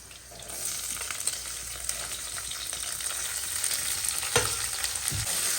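Chopped onions fry in hot oil with garlic for fish curry, a steady, busy sizzle close up, broken by occasional scraping stirs in the pan.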